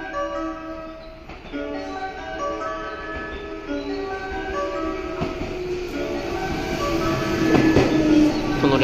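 JR West 221 series train pulling into Nishi-Akashi station, with a steady rumbling rail run, rhythmic wheel clicks and a tonal motor whine that grows louder as the train nears the platform.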